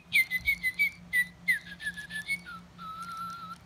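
A bird whistles a series of clear, bright notes in quick repeated phrases, close and fairly loud, ending on a long steady tone.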